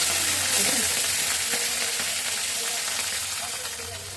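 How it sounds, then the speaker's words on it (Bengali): Fish fries in a pan in a home kitchen with a steady, loud hiss and crackle of hot oil. The sizzle is continuous and close, with small spits and pops throughout. "মাছ ভাজিটা হয়ে গেছে"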